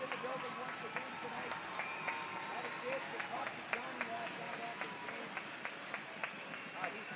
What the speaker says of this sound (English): And another round of applause there for Jonny Ruiz.